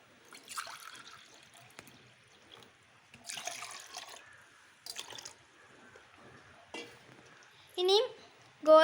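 A cup of water poured into an evening snack batter and stirred, giving scattered splashy trickles and drips with soft stirring strokes, interrupted by brief bursts of sound and louder swishes toward the end.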